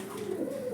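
Fancy pigeons at a pigeon farm give a soft, close coo, one low throaty call drawn out and sliding slightly in pitch over a quiet background.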